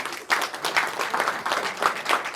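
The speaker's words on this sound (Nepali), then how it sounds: "एकचोटि मेरो श्रीमतीलाई ताली बजाइदिनुहोस् न" Audience at a Christian poetry book launch clapping for a speaker's wife, a moderate room of applause with uneven individual claps, steady and brief, with a faint voice underneath.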